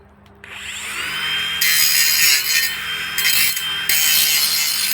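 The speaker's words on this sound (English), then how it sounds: "I'll just grind that ugly weld down" Angle grinder grinding down a rough weld on ramp guide or handrail steelwork, a loud continuous high whine that rises as the disc bites into the metal, with sustained abrasive hiss and no talking.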